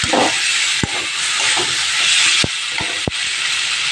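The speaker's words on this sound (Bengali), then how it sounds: "এবার আমি জল দেবো।" Water poured into hot fried spice paste for an egg omelette curry: a loud, close burst of steamy hissing and sizzling that holds steady, broken by a few sharp knocks.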